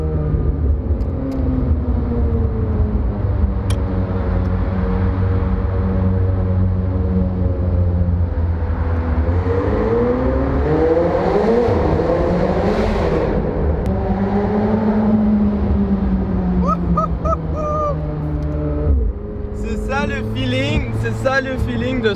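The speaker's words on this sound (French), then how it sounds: "vraiment votre échappement dans le tunnel, alors vous êtes là avec tout ce bruit" A McLaren 720S supercar's exhaust roars and revs inside a tunnel, loud and reverberant, with engine pitch climbing and falling through gear changes and a deep rumble that continues throughout.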